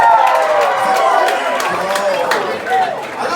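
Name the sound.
comedy club audience cheering and clapping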